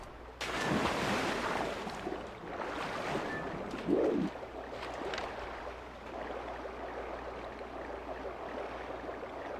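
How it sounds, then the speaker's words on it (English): Paddling boats in the video game The Legend of Zelda: Twilight Princess on GameCube, heard as a steady wash of water splashing and sloshing that runs throughout, with a brief louder splash near the middle. "You can hear them paddling."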